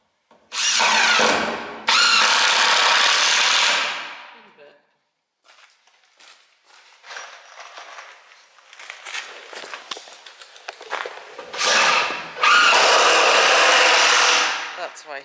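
A power drill drives screws into twisted, bent floor trusses during house framing. Two long, loud whirring bursts are followed by quieter handling and footsteps, then two more drill runs.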